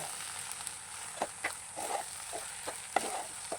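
A jaggery porridge mixture is stirred in a pot, giving soft, intermittent scrapes and light bubbling over a steady faint hiss, quiet and close.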